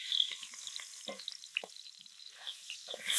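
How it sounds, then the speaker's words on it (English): Spiced meat sizzles and crackles in a hot oiled pan at a cold forest campsite, a steady close frying hiss with small pops and brief stirring scrapes, no voices. "I place the spiced meat carefully into the hot pan."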